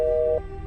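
A steady electronic telephone tone, two close pitches, sounds for about a third of a second after a call is hung up, then cuts off abruptly, leaving a low hum.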